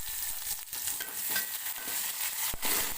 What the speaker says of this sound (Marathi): टॉमॅटो सॉफ्ट होईपर्यंत आपण परतून घेऊया